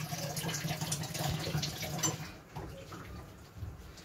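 Tamarind being washed in water, with a steady close splashing and sloshing of water that runs continuously for about four seconds and eases slightly toward the end.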